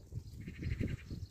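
Sheep or goats bleating on a farm, several calls in a quick rhythmic series at moderate distance, with no voices.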